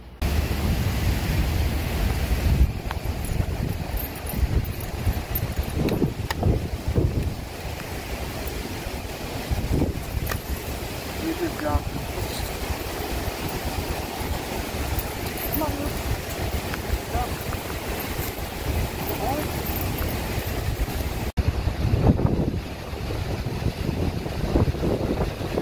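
Steady wind and ocean surf rush at a beach, a broad continuous roar with gusty swells throughout, fairly loud and close, with no clear voices over it.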